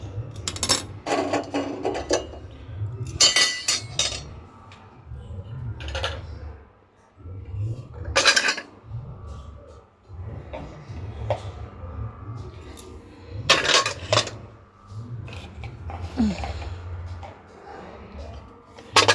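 Dishes, pots and pans clatter and clink as they are handled in a home kitchen, in scattered bursts of metallic knocks and scrapes with quiet gaps between them, and someone talks throughout.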